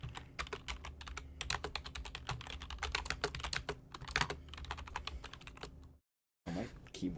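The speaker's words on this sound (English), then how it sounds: "Oh, my keyboard is so loud." Loud computer keyboard clattering with rapid, dense keystrokes, close to the microphone, stopping briefly before resuming; a voice is faintly present underneath.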